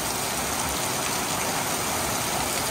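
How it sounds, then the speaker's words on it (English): Steady rain falls on a rainy afternoon at a tiny house workshop, a dense, even hiss of drops on surfaces, continuous and fairly close, with no voices. "Another rainy afternoon."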